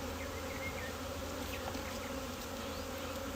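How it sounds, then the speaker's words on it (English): Honey bees buzz steadily around an opened hive during an inspection, a dense, continuous drone close by with no talking. "they're not happy about their hive being invaded"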